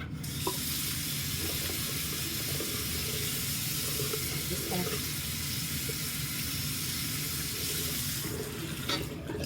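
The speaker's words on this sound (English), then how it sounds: "Wet my rag and use the rag and just kind of wash it up." Tap water runs steadily into a sink to wet a rag, a close, continuous rushing that holds evenly for several seconds before easing near the end.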